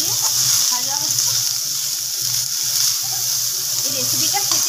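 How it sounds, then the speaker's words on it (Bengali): Bottle gourd frying with grated coconut in a pan, a continuous even sizzle with soft stirring textures, steady and close for the whole stretch. "এবার লাউটা দিয়ে ভাজা হচ্ছে।"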